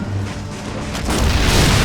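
A tank shell explodes in a tank battle video game, a loud booming rumble that swells and sustains rather than a sharp crack.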